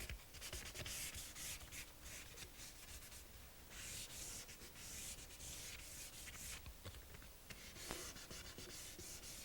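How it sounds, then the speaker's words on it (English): Hand sanding of a wood finish, a steady close scratchy rubbing of paper over wood with uneven back-and-forth strokes running the whole time, with no talking. "A smooth, even sanding is very important"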